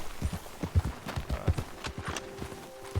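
Horse hooves in Red Dead Redemption 2 beat out an uneven clip-clop rhythm on the ground, close and fairly loud, with the horse moving restlessly rather than at a steady gallop.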